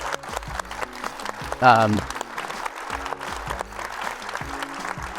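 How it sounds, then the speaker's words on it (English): Applause from a live podcast audience at Climate Week in New York City, moderate clapping throughout with a low background music bed and a brief vocal burst near the middle. "let's give him a nice round of applause"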